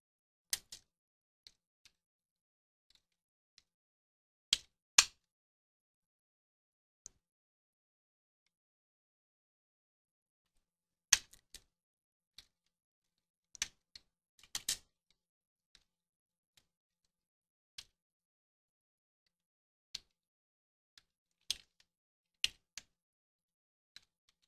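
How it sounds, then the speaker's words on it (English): Computer keyboard typing comes through as faint, sparse key clicks in small irregular clusters with long quiet gaps between them. "and just kind of start typing."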